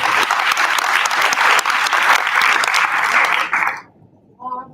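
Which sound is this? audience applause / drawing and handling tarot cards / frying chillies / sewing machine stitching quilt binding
audience applause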